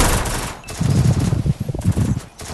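Groza X rifle fire in the Free Fire video game, with loud, close bursts of rapid shots broken by short pauses across a couple of seconds.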